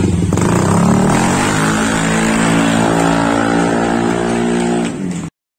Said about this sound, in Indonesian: ya kita tes dulu guys motornya